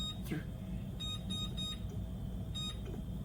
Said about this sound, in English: to set the timer for